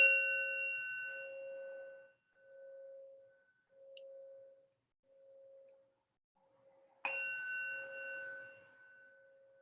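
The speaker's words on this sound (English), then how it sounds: "hearing the bell" A meditation bell rings twice, each strike a clear metallic tone with layered overtones that hangs and slowly fades, a low hum pulsing between them; quiet and alone in a still room.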